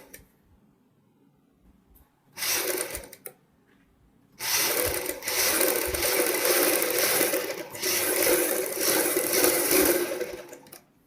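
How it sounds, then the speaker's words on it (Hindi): A sewing machine stitches a straight seam along a kurti collar over buckram, first in one short run of about two seconds, then after a pause in a steady continuous whir of several seconds, close and alone. "ये जो सिलाई लगा रहा हूँ मैं, ये बिल्कुल सीधी होनी चाहिए हमारी।"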